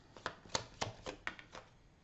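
Tarot cards being laid out and handled, producing a quiet series of about seven crisp slapping flicks in a loose, uneven rhythm, close and soft.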